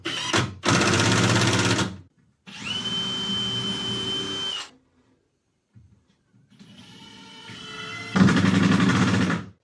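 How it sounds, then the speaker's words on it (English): A power drill drives screws down into a wooden shelf, several whirring bursts of a few seconds each separated by short pauses, close and fairly loud, with no talking. "then I'll drive screws down into the one below"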